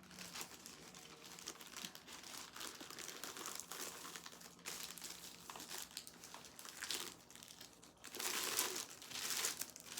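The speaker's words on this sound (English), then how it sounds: "I'll just put it in the plastic bag." Plastic crinkling and rustling close by, in irregular bursts with a louder crumpling flurry near the end.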